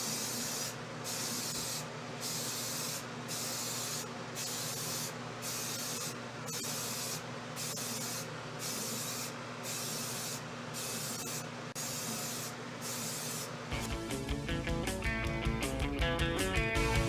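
Rust-Oleum Painter's Touch 2X primer sprayed from a rattle can in a long series of close, rhythmic hissing bursts with short gaps, shifting to a continuous spray near the end, no talking.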